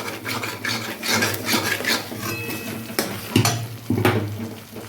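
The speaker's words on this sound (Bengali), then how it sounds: "এটার মধ্যে আদা রসুন পেঁয়াজ দেওয়া আছে অলরেডি তো এটা ভালো করে কষাতে হবে" A spatula scrapes and stirs a masala of ginger, garlic and onion frying in a pan for an egg and cauliflower dish, giving close rasping strokes in an uneven rhythm over a soft sizzle, with no talking.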